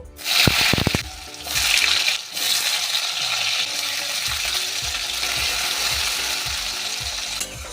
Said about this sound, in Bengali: এবার ডুমো করে কাটা দুটো আলু আমি ভেজে নেব